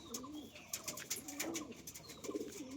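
High-flying fancy pigeons at a home loft coo softly and repeatedly in low, rolling notes, with faint chirps and rustling close by and no one speaking.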